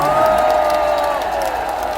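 A crowd at an outdoor Korean rally claps and cheers in a dense, steady burst that holds throughout, loud and close, with a few whoops mixed into the applause.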